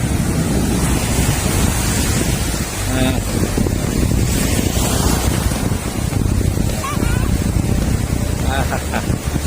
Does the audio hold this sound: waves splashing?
yes